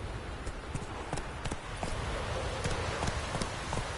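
Roach, Geralt's horse in The Witcher 3, gallops in a quick, steady hoofbeat rhythm over faint game ambience, with no talking.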